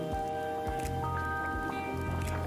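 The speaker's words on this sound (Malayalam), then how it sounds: "ഉടയാത്ത മത്തങ്ങ കഷ്ണമൊക്കെ ചെറുതായിട്ട് നമുക്കൊന്ന് ഉടച്ചു കൊടുക്കാം കേട്ടോ." Cooked pumpkin pieces are mashed in a pumpkin curry, making soft, wet squelches in a loose rhythm, close up, over a low steady background hum.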